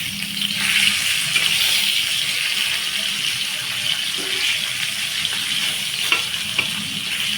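Spicy fish shallow-frying in a pan, a loud steady sizzle close up with occasional stirring clicks and pops, no voices.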